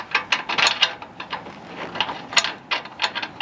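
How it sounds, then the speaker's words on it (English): A hand ratchet tightens a nut on car suspension during a V8 engine and suspension upgrade, making a steady run of close, crisp clicking pawl ticks with no talk. "now it's switched to the ratchet because the rattle gun wasn't working anymore"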